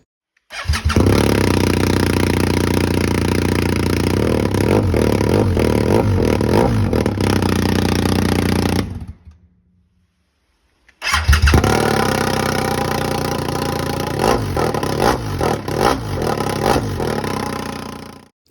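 Loud, raw BMW R 1250 GS motorcycle engine roaring with no exhaust silencer, revving continuously, cutting off for a couple of seconds, then blasting back up close by.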